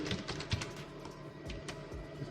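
Close computer keyboard typing of an address into a mail merge form, a run of soft, evenly spaced key taps over a steady background hiss.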